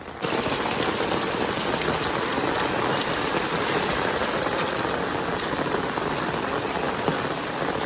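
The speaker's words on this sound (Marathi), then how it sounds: "मस्त असं पाऊस पडत आहे" Heavy monsoon rain pours steadily on a Konkan village, a dense, loud hiss of drops hitting surfaces without a break.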